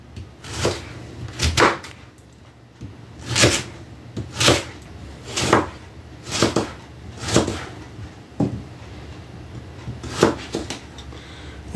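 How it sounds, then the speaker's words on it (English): A knife slicing fresh garden beets into thin slices on a cutting board, about a dozen sharp separate chops at an uneven, unhurried pace, close and clear against a quiet room. "So then you just cut them up."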